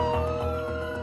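Ambulance siren arriving at a home where a woman has been found shot, wailing loudly and steadily for the whole moment with no voices.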